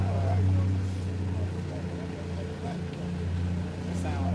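A 305 V8 engine with a low, steady exhaust drone and a deep constant rumble, with a faint voice talking over it.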